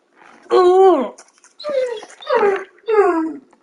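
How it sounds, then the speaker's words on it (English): A puppy whimpers and cries in four close, loud, high-pitched wails, each falling in pitch, separated by short pauses. "are you crying for, puppy?"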